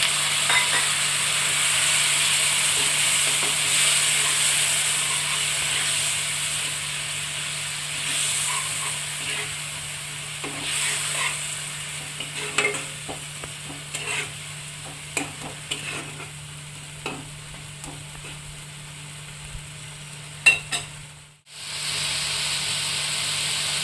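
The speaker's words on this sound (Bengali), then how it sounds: "এখানে আমি 2-3 চামচের মতো জল দিয়ে দিচ্ছি মশলাটা কষার জন্য।" Spices frying in a pan with a few spoonfuls of water added, a loud continuous sizzle and hiss with repeated scraping stirs and utensil knocks through the middle, briefly cut off near the end before the sizzle resumes.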